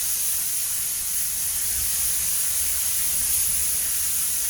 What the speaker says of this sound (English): Make sure you get the paint right under that arch lip there.